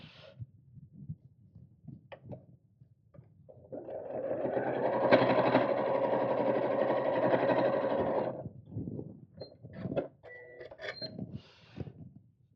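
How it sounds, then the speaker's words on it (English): A sewing machine runs one continuous, even burst of about four seconds, stitching straight across the bottom of a fabric craft bag, close and clear, with quieter handling clicks before and after. "before I sew straight across the bottom"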